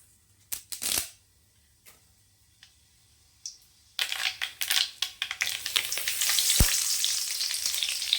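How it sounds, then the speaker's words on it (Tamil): Mustard seeds and urad dal hit hot oil in a kadai, giving a few sharp crackles at first, then a dense, loud run of popping and sizzling that builds and keeps going close by. "கடாய் வச்சுக்கலாம். எண்ணெய் சேர்த்துக்கலாம். கடுகு உளுத்தம் பருப்பு,"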